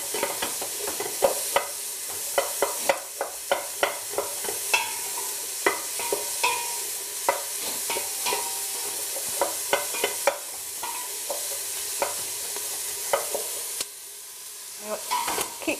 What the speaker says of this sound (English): once the oil is nice and warm, we can start adding the onions.